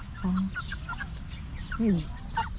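Backyard chickens feeding on rice make short clucks and a couple of drawn-out calls near the listener, with soft scratching and background noise between them.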